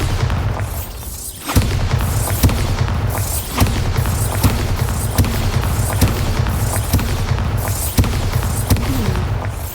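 The Bombarda explosion spell goes off in the video game Hogwarts Legacy: loud, deep booming blasts repeat one after another with crackling debris, close and heavy, and no talking.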